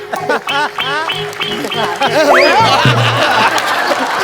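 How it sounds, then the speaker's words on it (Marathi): A gathering on a Marathi comedy stage breaks into a dense wash of clapping in the second half, mixed with laughter and lively voices. "जोरदार टाळ्या"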